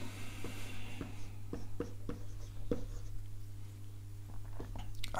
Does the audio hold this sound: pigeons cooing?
no